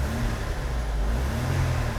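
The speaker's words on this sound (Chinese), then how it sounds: "怠速很好" A Mercedes W123 230E engine idles after a fuel distributor repair, a steady, smooth low rumble with a faint rise in revs near the end, close and continuous with no talking.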